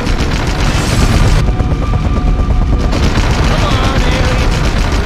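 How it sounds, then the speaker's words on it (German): Red Faction 2 mounted-gun fire hammers away in loud, continuous rapid bursts with heavy booms, while someone speaks over the onslaught throughout. "jetzt müsst ihr euch aufs Ballern beschränken und eure Feinde als Bordschütze aufs Korn nehmen"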